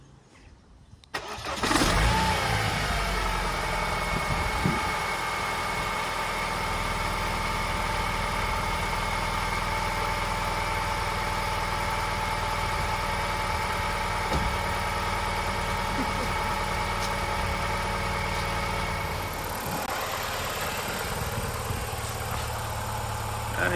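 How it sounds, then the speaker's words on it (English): BMW E46 car engine cranking and catching, then settling into a steady, close idle that hums evenly for over twenty seconds before easing slightly near the end. "Just going to start the car now and turn the lights on to see the difference of brightness."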